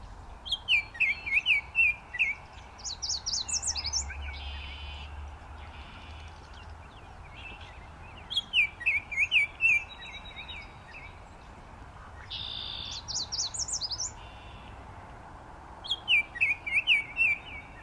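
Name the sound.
orioles counter singing, one off stage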